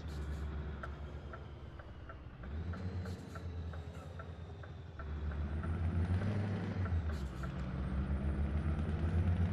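A Scania S730 truck with a V8 engine drives along steadily, its deep engine drone loud and continuous, swelling louder midway, with faint hiss and clicks of the cab and air system above it and no talking.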